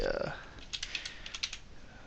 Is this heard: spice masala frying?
no